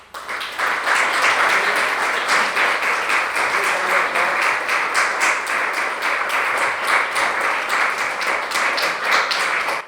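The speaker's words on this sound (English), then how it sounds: "a big round of applause for Uma Ramakrishnan ji" An audience applauds after a talk with sustained, dense clapping that starts abruptly and keeps a steady, full roar of many hands throughout.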